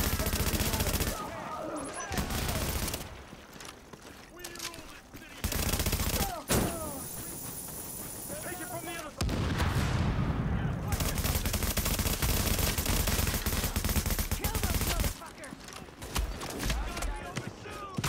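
Gunfire in a street firefight in the video game The Division, with dense bursts of automatic fire and repeated shots, loud and close, coming in several long volleys separated by short pauses.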